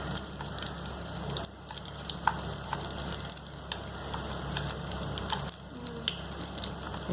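Lumpiang shanghai spring rolls deep frying in oil with garlic, a steady close sizzle with scattered small pops and crackles running through the whole stretch, no talk.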